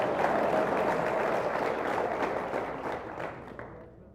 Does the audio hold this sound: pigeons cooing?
no